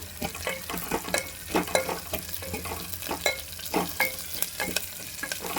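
A dried red chili fries in tempering oil for a village-style dal, producing a crackling sizzle with repeated scraping strokes of a stirring spoon, close and without voices.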